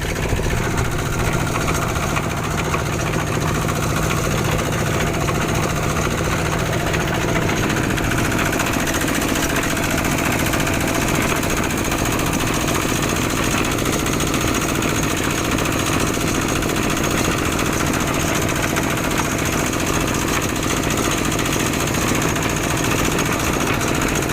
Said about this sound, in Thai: จะไปเรื่อยๆเอาเร่งเครื่องนะครับ